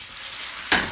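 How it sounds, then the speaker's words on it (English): Tortilla chips dropped into hot oil, a sudden loud sizzling hiss that bursts in near the end and holds steady. "we're going to drop some of our chips in here, just like that"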